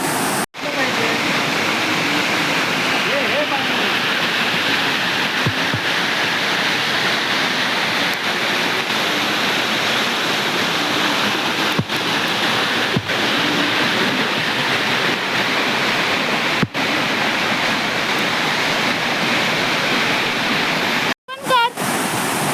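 Heavy water rushing steadily at a village waterfall at Panhali in the Konkan, a loud continuous roar that fills the whole stretch with brief dropouts. Voices are faintly present beneath it.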